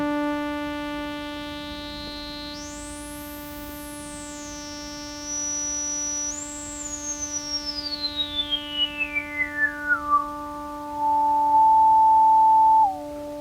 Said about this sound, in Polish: dzięki rezonansowi słyszymy całe szeregi alikwotyczne poszczególnych dźwięków